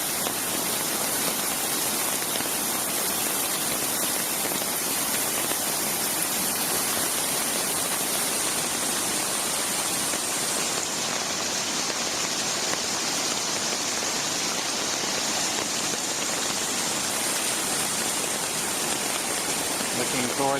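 A heavy rainstorm at Turkey Cock Run drums down steadily, with water rushing fast nearby, a thick, constant wash of noise that never lets up and has no talk over it.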